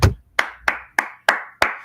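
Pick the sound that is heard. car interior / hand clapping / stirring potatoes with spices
hand clapping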